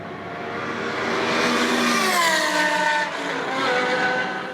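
A BMW M-engined rear-wheel-drive car accelerates hard along the Nürburgring main straight, its revs climbing in rising sweeps with brief dips at gear changes, heard at moderate distance.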